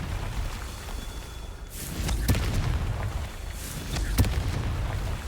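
Confringo fire spell blasts in Hogwarts Legacy, heard as two separate booming bursts a couple of seconds apart, each with a sharp crack and rumbling tail over steady background noise.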